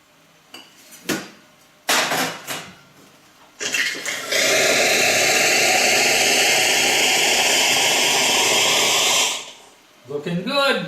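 A steady hiss of hot water streaming from an espresso machine for several seconds, preceded by a few clicks and clunks, with brief mechanical noises after.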